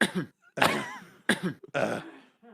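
A person gives a few short, throaty little coughs and throat clears in quick bursts with pauses between, close and fairly quiet.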